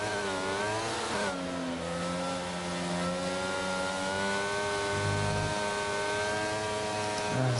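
Race car engines in a racing video game idle and rev steadily as the cars roll toward the grid, warming their tyres, with a continuous layered hum of several motors at moderate loudness and no talking.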